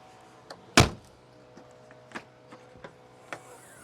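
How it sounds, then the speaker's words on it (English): A Mk2 Golf boot lid on new gas struts gives one loud thunk as it shuts, then a string of soft clicks and light knocks from the latch and trim. The sounds are close and there is no talking. "Let's see how it opens and closes now."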